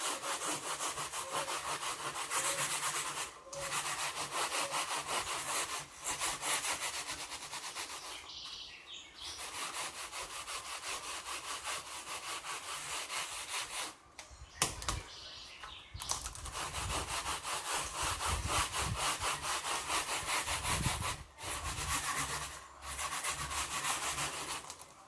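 Stiff brush scrubbed up and down over a pollen substitute feeder after an overnight bleach soak, a steady loud rasping with brief pauses between strokes, close up, no voices.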